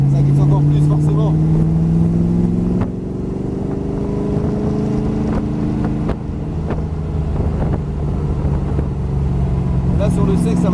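An AC Cobra Shelby sports car tears around a dry track, its loud engine note climbing and dropping through gear changes as it slides, with someone talking over the roar.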